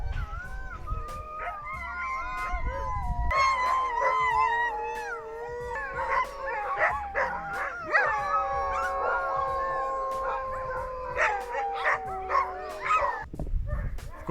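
A team of sled dogs in a snowy dog yard howls together, with many overlapping rising and falling voices forming a loud, sustained chorus that runs throughout, with occasional yips mixed in.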